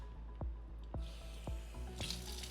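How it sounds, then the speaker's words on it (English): Tap water runs over canned black beans being rinsed for sweet potato enchiladas, a steady close stream with a few splashy bursts as the beans are shaken and rinsed. "run some water over the black beans a couple of times"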